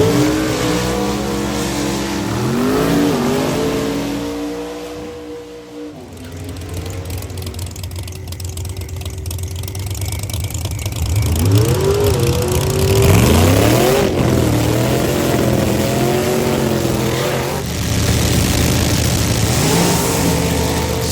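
Drag racing cars at the Pro Superstar Shootout rev hard and accelerate, loud and close, with several rising engine sweeps and roaring pulls across the whole stretch and no voices.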